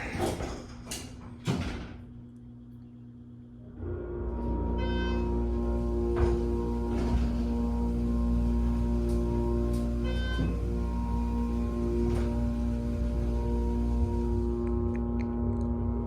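The motor of a Schindler HT 321A hydraulic elevator drones with a steady low hum, with a few faint clicks and thumps over it.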